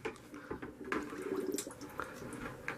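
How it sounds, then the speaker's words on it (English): Bubbles escape from a TacLight lantern submerged in water, giving quiet gurgling blips and small liquid plops in an irregular cluster, faint and close with soft water movement around them. "Some more bubbles went out."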